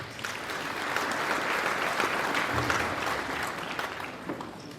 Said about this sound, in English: If I were you, I'd clap for myself